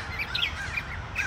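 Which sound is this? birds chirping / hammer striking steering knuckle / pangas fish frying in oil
birds chirping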